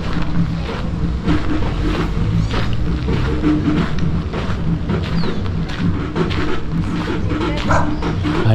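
A dog barks repeatedly amid wind and outdoor noise, the barks fairly close and irregular over a constant rushing background.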